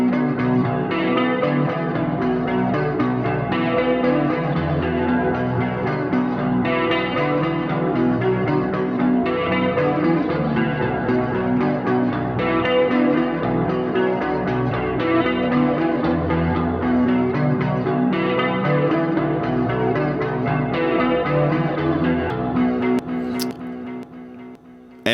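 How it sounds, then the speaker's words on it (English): A distorted electric guitar track soaked in flanger and dynamic delay plays alone, a steady sweeping, shimmering wash with echoing repeats that fades out at the end. "No, it's just a flanger and a dynamic delay that I have going on right here"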